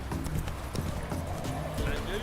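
Roach the horse gallops in The Witcher 3, hooves thudding in a quick rhythmic clip-clop beneath a man's speech, close and steady throughout.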